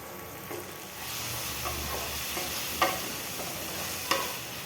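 Chopped tomatoes fry with onions in a hot pan, giving a steady sizzle broken by the occasional scrape or clack of stirring, with no talking.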